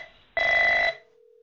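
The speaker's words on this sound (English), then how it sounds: "That is ringing. I should be able to answer it." An Avaya SIP desk phone gives one short electronic ring, a bright, steady warble lasting about half a second that stops cleanly against a quiet background.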